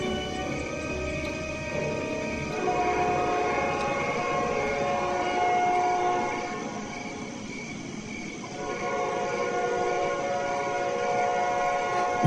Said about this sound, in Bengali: দাঁড়িয়ে থাকতে থাকতে আমরা ট্রেনের হর্ন শুনতে পাই, তার মানে ট্রেন আসছে।